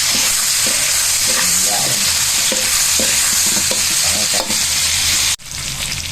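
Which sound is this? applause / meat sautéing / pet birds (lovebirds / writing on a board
meat sautéing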